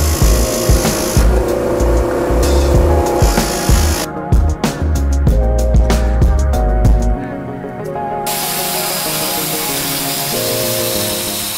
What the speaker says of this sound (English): So I think I'm gonna bring it over to the Fordham lathe and just polish that up a little bit more.